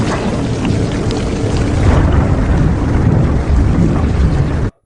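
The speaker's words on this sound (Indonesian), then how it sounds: "hujan turun dengan deras sampai dasar tebing terlihat seperti sungai" Heavy rain in the film Alpha (2018) pours down in a dense, steady roar, loud and continuous before cutting off abruptly at the end.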